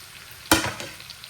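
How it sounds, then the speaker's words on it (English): Onions hit a hot pan for creamy onion pasta, giving a sudden burst of sizzling and frying that fades over about a second, close and alone. "we're going to put all our onions in first. Get those cooked up, softened, caramelized."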